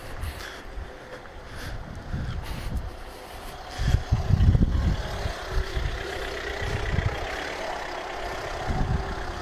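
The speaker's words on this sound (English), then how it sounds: "And here comes a car." A vehicle engine rumbles past outdoors, swelling to a peak midway and fading, with wind and low traffic noise throughout.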